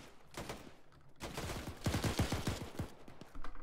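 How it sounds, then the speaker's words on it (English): Automatic weapon fire in the ArmA 3 military shooter during a Falklands campaign operation: faint scattered shots give way to a sharp rapid burst of closely spaced rounds midway, then trailing fire. "Don't keep shooting. Don't waste your bullets on him."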